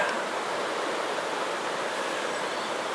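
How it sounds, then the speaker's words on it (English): Fast-flowing river water beside a canal aqueduct, a steady broadband rush that holds evenly throughout, soft and continuous with no voices. "You can maybe hear, it's quite a fast flowing river here."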